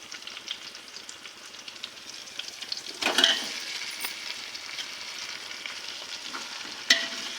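Two chicken leg pieces sizzle in a pan of softened onions, a steady broadband fry crackle running throughout with a louder stirring burst near the middle and a brief clink toward the end; no voices.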